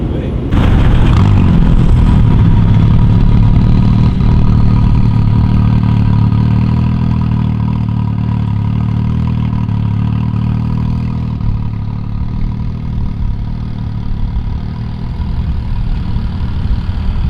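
An old 1965 farm truck's engine runs steadily close by, a continuous low rumble that idles and revs slightly as the truck maneuvers, with a brief louder burst near the start.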